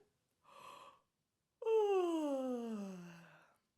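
A short breathy inhale followed by a long, drawn-out vocal yawn that slides downward in pitch and fades out, close and fairly quiet.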